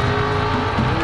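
A car in a mud bog race, flooring it through a 120-foot mud pit: a loud, continuous engine roar at full throttle that fills the whole short moment.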